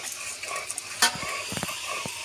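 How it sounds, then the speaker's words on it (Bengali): Biryani being cooked in a large pot at a madrasa anniversary gathering, with steady sizzling and stirring scrapes plus a few sharp metallic clinks of utensils against the pot, no voices. "এখানে রান্না করা হচ্ছে।"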